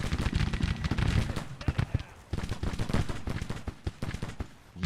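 Rapid volleys of musket and artillery fire from a Civil War battle in the strategy game Grand Tactician, dense overlapping shots and booms throughout, loud and close, with brief talk underneath.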